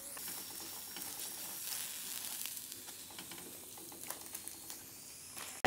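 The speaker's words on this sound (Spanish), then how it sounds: "Aquí en el mismo sartén vamos a agregar nuestros guajes." Guaje seeds toast in a skillet with a steady, soft sizzle and scattered small crackles and pops, close by and fairly quiet, with no talking.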